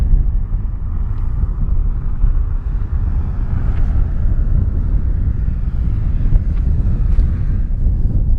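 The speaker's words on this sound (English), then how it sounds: "A little bit windy on top of this rock" Strong wind buffeting the microphone on top of a rock at Spahn Ranch, Santa Susana, in a continuous low rumble and roar, loud and unbroken from start to finish.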